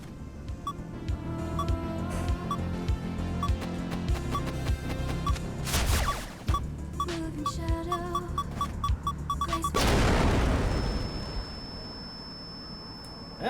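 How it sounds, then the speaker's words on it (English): In the River City Girls video game, a loud burst of noise about two thirds of the way through marks the explosion, following repeated beeping game effects and music, then fading into a rumbling tail. "And that was quite the explosion"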